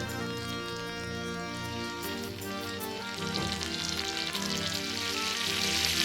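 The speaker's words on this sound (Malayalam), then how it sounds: "ആ ബട്ടർ ഇടുകയാണേ ബട്ടർ അലിഞ്ഞു വരുന്ന കണ്ടു" Butter melts in a pan for a pineapple fry, giving a soft sizzle that grows louder and hissier partway through under steady background music.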